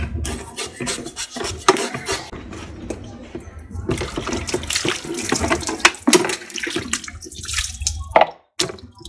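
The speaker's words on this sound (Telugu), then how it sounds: "ముందుగా దీన్ని చక్కగా పీల్ చేసుకుని దీని మీద ఉన్న పులుసు అంతా పోయేదాకా చక్కగా కడుక్కోవాలి" Tap water running and splashing over pomfret fish being rubbed clean by hand in a sink, loud and close, broken by brief pauses and scraping rubs.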